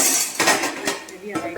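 Curry leaves tossed into a pan of fried onions, heard as a short burst of metal spoon scraping and clinking against the pan with light sizzling beneath.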